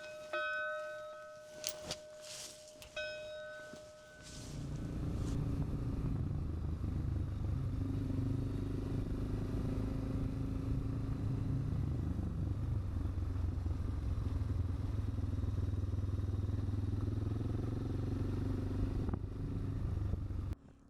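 A Suzuki motorcycle rides along a road in Portugal, its engine droning loudly and steadily for most of the clip after some brief clattering and ringing at the start.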